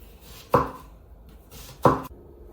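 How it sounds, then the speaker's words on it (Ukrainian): An onion is sliced into rings for liver baked with apples in a pot, giving two sharp knife chops on a cutting board about a second apart, close and fairly loud with no talking. "Тож нарізаємо цибулю, нарізаємо цибулю під кільцем"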